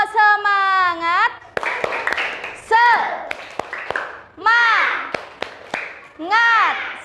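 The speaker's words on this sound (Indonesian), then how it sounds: "Kita tepuk semangat dulu supaya semangatnya kembali lagi, ayo. Tepuk semangat." A primary school class in Indonesia doing the tepuk semangat clapping chant, with children's voices chanting in bursts punctuated by sharp, rhythmic group claps, close and loud.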